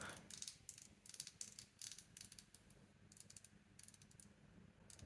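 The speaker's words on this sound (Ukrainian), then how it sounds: "З правого боку кнопка коліщатка. При прокрутці здає такий звук." The crown wheel button on a COLMI C81 smartwatch gives off rapid, faint, close-up ratcheting clicks in short bursts as it is scrolled, with no talking.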